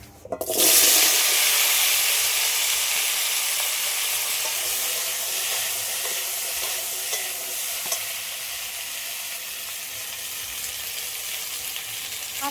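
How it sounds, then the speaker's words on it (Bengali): Pieces of taro and potato fry in hot oil already used for frying bhola fish, a loud, steady broadband sizzle that jumps up at the start and then holds with slight fading, no voices over it. "কাটি কচু আর আলুটা ভেজে নেবো"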